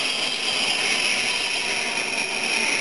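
A second train rolling into a railway station, a loud, steady rushing roar with a bright high-pitched whine holding evenly throughout.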